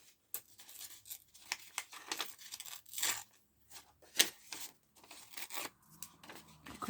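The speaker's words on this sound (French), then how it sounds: "Je viens en fait déchirer le haut." Card stock being torn by hand: the top strip ripped off a playing card in a few short, crisp tearing bursts, close and fairly quiet, with small rustles between them and no talking.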